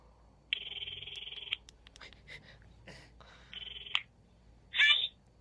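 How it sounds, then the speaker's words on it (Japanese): A telephone call dials out with touch-tone beeps, then two long electronic ring tones sound near and clear with short gaps between them, and no one speaks over them. "ちょっと電話してみます。"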